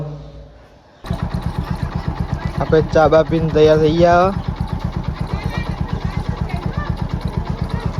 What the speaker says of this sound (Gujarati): જો બાઇક ચાલુ કરી દીધું છે બાઇક ચાલુ કરી દીધું